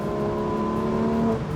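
A Porsche 911 GT3 S/C's 4-liter engine revs in a steady, loud, sustained tone that holds its pitch, then eases slightly at the end.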